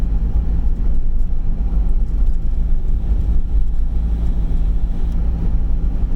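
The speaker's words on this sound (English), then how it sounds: "Sorry about the fan noise" Steady fan noise inside a car on a drive in Portland, Oregon, a constant close whoosh blended with low road and engine rumble, no talking.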